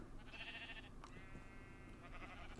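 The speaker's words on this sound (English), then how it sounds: "And Meep for my sheep, our sheep" A sheep bleats twice in a Minecraft-style game, short nasal calls in close succession, heard over a steady background of game ambience with no talking.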